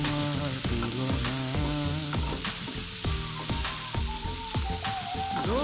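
Mixed vegetables fry in a pan for a vegetarian dalia (broken wheat) pulao, giving a steady, close sizzle that runs throughout under loud background music.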